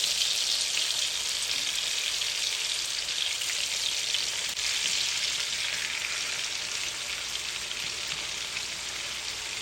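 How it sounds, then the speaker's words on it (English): Steady, dense sizzling of chicken frying in hot oil in a skillet, a continuous crackling hiss that holds at an even level throughout with no voices. "I'm frying my chicken"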